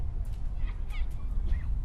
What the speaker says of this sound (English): Only birds dared to speak again.